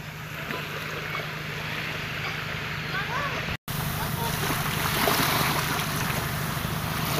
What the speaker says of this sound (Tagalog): Medyo malan-alon kunti.